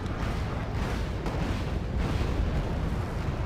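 Rockets slam into rebel Mi-17 helicopters in Wargame AirLand Battle, a dense, continuous rumble of overlapping blasts and booms that fills the whole stretch without pause.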